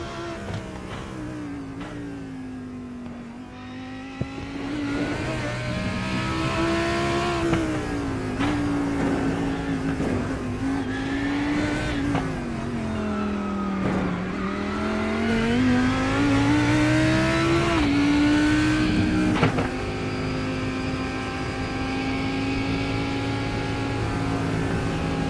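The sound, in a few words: GT3 race car engine onboard at Sandown, racing video game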